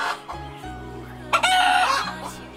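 An old rooster crows in an ancient town in western Hunan, China: a loud, close, strained call rising after a few short clucks and low farmyard noises, with no talking.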